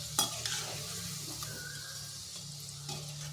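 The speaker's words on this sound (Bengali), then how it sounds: "এইভাবে নেড়ে চেড়ে ভেজে নিতে হবে।" Raw potato snacks frying in hot oil while being stirred, a steady close sizzle with a few sharp scraping strokes of the spatula at the start and near the end.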